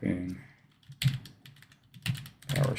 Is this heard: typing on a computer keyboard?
yes